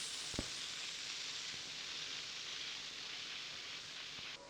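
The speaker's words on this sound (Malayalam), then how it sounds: "ഇനി ഇതിലേക്ക് നമ്മൾ മുറിച്ച് വെച്ചിരിക്കുന്ന സവാള ചേർത്ത് കൊടുക്കാം ഇനി ഇതൊന്ന് വഴറ്റി കൊടുക്കാം" Chopped onions saute in hot oil, giving a soft, steady sizzling hiss that runs without pause, quiet and even, with a faint tap or two.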